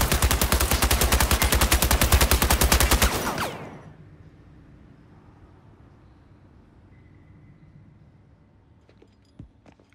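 Rapid automatic gunfire from the Suicide Squad video game, a dense loud burst of shots for about three seconds that cuts off abruptly, leaving a quiet background hum.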